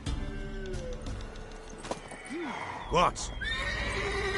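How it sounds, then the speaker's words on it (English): A horse in The Witcher video game whinnies loudly and repeatedly, with clip-clopping hooves, while a brief voice speaks and game music plays underneath. "Worthy of the best horse. The mare is yours."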